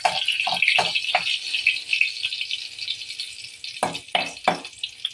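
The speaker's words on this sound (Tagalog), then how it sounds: "Igigisa na natin yung bawang." Garlic sautés in hot oil in a pan, a bright continuous sizzle with bursts of rattling and scraping from stirring at the start and again near the end.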